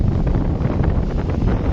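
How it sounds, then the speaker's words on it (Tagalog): Strong wind gusts over an open fishing spot, roaring loud and unbroken in heavy microphone buffeting before cutting off abruptly at the end. "mukhang malabong titigil tong hangin na to eh"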